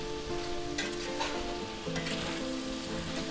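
Canned straw mushrooms sizzle steadily as they fry in a hot pan for chicken chop suey, with soft scraping as they are stirred. The frying is continuous and fairly quiet, and no one speaks.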